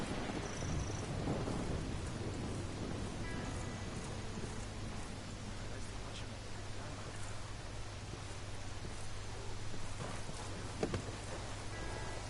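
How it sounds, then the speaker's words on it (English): Steady rain falls with low rolling thunder in the background in Ghost Recon Wildlands, a continuous wash of sound with a brief louder crack near the end. "Can't believe it's been raining all night."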